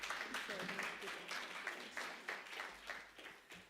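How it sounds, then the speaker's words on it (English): Scattered applause from an audience at a membership launch event, a small group clapping in uneven bursts at a fair distance, with voices murmuring beneath. "A clap for Jana op den Winkel."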